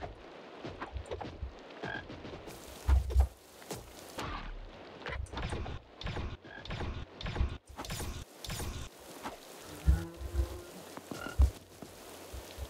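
A frog croaks in a horror egg-hunt video game, rough creaky calls scattered among clattering mechanical game sounds and ambient noise, with no talking.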